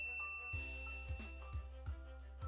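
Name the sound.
notification bell ding sound effect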